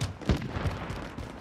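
Distant gunfire in an online shooter match near a stadium: a few muffled low booms and cracks over a rumbling background, with no clear talk over it.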